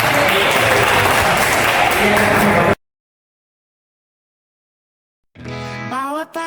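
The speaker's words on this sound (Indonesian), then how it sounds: "tepuk tangan buat bapak-bapak." Audience applause at a Jaringan Saudagar Muhammadiyah event in West Java, a dense burst of clapping for about three seconds that cuts off abruptly, followed by silence and then a short stretch of speech.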